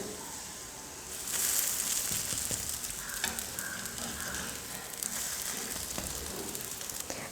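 Potato and egg snack frying in oil in a pan, a steady close sizzle that swells as it is flipped, with faint stirring clinks and no talk.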